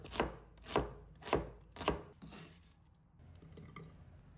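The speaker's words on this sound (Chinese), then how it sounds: "取半个洋葱，切成小块" Half an onion chopped into small pieces on a board: four crisp, evenly spaced knife strikes about half a second apart, followed by softer handling noise and quiet.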